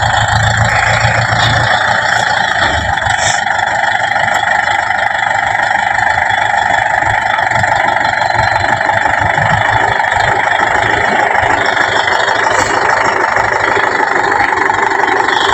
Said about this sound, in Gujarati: આપણો ટ્રેક્ટર આવી ગયું છે અને હવે આ મશીન કહેવાય શું કહેવાય રાયડો કાઢવા માટે મશીન હલર